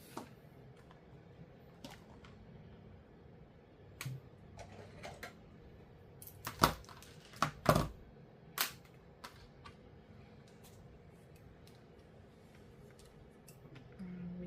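Scissors snip through thread for binding a handmade journal: a few sharp, close clicks clustered midway, separated by quiet stretches with faint room noise.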